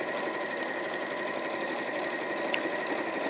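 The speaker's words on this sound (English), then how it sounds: "You could sew over that area a couple of times." A sewing machine stitches down pleated patchwork fabric, running in a steady, close, continuous whir with no pauses and no voices.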